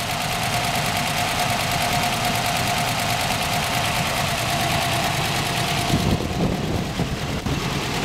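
A 312 Y-block V8 idles steadily in a 1960 Mercury half-ton truck, with a close, even rumble and a slight knock running throughout, and a brief thump and a shift in tone near the end.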